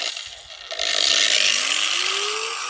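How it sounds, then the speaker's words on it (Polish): A corded angle grinder starts up and runs free with no load, its motor whining up to a steady high-pitched buzz and holding there, close and loud with no talking. "spójrzcie, uruchamiamy szlifierkę."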